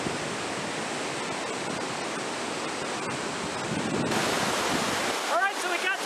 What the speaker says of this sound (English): we got to the waterfall. It's really coming down fast, a lot of snow melt